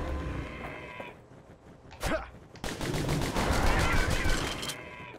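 Video game gunfire from Bastion comes as a dense burst of rapid shots after a brief whoosh, fairly loud and continuing for a couple of seconds against game background sound.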